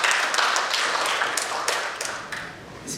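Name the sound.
audience applause for the speaker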